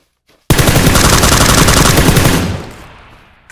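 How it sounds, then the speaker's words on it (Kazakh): Machine gun fire from the PUBG Lite video game rips out in one loud, rapid, unbroken burst of about two seconds, then fades away, heard alone without talk. "Пулемет."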